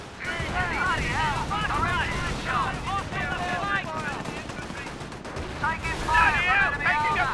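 Rifle grenades and small-arms fire crackle through a World War II battle in Company of Heroes 1, repeated rapid bursts under overlapping in-game voice chatter.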